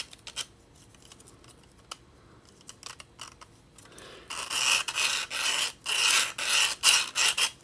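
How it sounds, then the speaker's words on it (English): A 3D printed impossible cone fidget toy is worked by hand, starting with faint scattered clicks and then turning into loud, close, rhythmic rasping scrapes in repeated strokes. "kind of like those impossible 3D printed cones that you see on TikTok. But I got it because of the noise."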